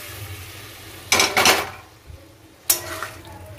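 Boiled chana dal being tipped from a container into masala in a pan, with clattering scrapes of a utensil against metal, a short pause, then another scraping clatter, close and fairly loud.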